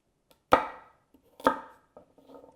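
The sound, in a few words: chopping butternut squash and vegetables into chunks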